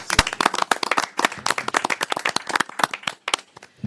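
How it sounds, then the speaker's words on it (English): A small group claps at a city council meeting after a unanimous vote, with distinct, fairly sparse hand claps rising and thinning out over a few seconds, no talk over them. "They deserve a round of applause."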